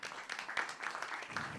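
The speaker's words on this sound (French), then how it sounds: "Monsieur Gérard Lefort, voilà, qu'on peut applaudir," An audience applauds at a French film-criticism talk event, welcoming a guest critic onto the stage; the clapping is fairly quiet and steady, a soft continuous patter heard from a distance for under two seconds.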